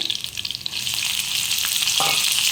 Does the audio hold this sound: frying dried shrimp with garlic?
yes